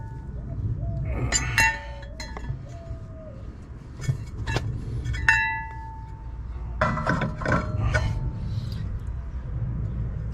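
A new rear brake rotor for a 2012 Infiniti FX35 being handled in a garage, giving several bright metallic clinks and ringing tones, some sustained, over a steady low background hum.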